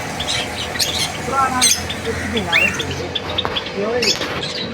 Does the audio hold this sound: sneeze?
no